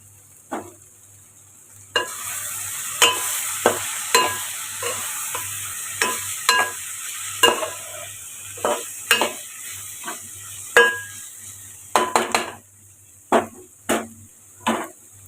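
Green beans sauté in a pan over a low flame, a soft sizzle running underneath as a spoon stirs and taps against the pan in a long string of sharp, evenly spaced knocks, heard up close with no voices.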